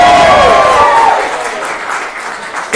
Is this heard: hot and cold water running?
no